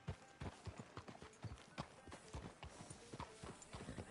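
Horse hooves clip-clop in a steady walking rhythm in a PS4 game, close and fairly soft, with a brief whinny-like sound mixed in and no talk over them.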